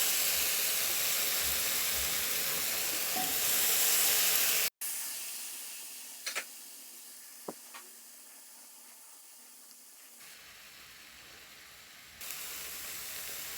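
Chicken reshmi kabab skewers frying in a pan over a low flame give a steady, close broadband sizzle and hiss that drops out briefly, then carries on with a few small clicks and no talk.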